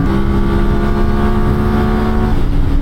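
A Ducati Monster 796 motorcycle with ABS accelerates hard at high revs, its loud, steady engine roar sustained and close throughout with rising tonal harmonics and no talk.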